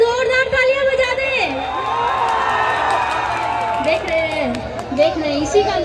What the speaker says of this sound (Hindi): एक बार पवन जी के दीवाने सारे जोरदार तालियां बजा दे